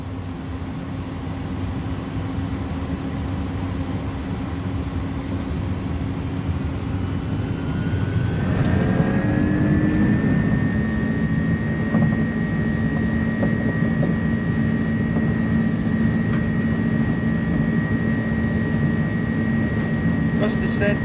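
Airbus A300-600R with Pratt & Whitney engines in Microsoft Flight Simulator spooling up for its takeoff roll, a steady jet drone rising partway through into a loud sustained roar with a whining tone held above it.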